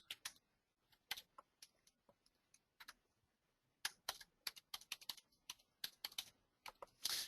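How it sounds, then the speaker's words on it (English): Close, quiet keystrokes tap on a computer keyboard in irregular bursts, pausing briefly before quickening into a busier run of typing, with no voice present. "And then you just type in your address."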